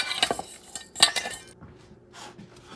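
Beef neck bones tossed with olive oil in a bowl, a few quick clinks and scrapes of utensil against the bowl, close and crisp, trailing into softer shuffling.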